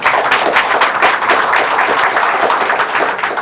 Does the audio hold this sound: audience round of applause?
yes